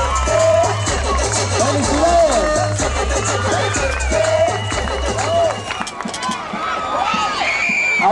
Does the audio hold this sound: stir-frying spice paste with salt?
no